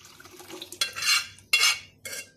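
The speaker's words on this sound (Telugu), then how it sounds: "పప్పు వేస్తున్నాను." Cooked dal for dosakaya pappu goes into a pot as a metal spoon scrapes and clinks against it in several loud, close bursts, with quiet pauses between them.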